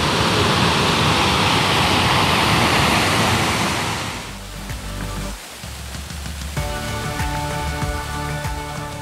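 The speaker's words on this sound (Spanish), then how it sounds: "El Salto Kawi es una de las primeras cascadas que estaríamos conociendo" Salto Kawi waterfall in the Gran Sabana, Venezuela, roaring as a loud, dense, continuous rush of falling water that drops off abruptly partway through, leaving a quieter background with faint clicks and handling noise.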